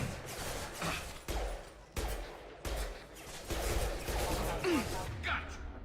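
Gunfire in a Mass Effect 2 firefight: sharp repeated weapon shots in separate bursts, mid-distance, with brief pauses between volleys and faint battle noise underneath.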